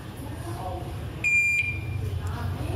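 A multimeter in continuity mode gives one clear high-pitched beep, steady for about a third of a second, while probing components on an Acer Aspire 4738 laptop motherboard that won't power on, over a low background hum.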